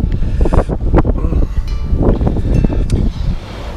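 Strong crosswind buffets the microphone in heavy rumbling gusts aboard a sailing boat off Grenada, broken by a few thumps and rustles, with no talking.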